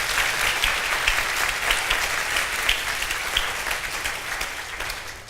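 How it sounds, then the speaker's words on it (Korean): A church congregation at a Sunday worship service breaks into warm, steady applause, a dense wash of many hands clapping at moderate distance that tapers slightly toward the end. "성도 여러분, 뜨거운 박수로"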